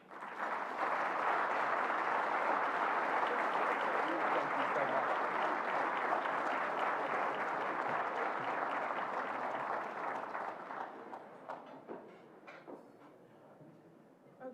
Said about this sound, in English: give another round of applause for Toby and Lillia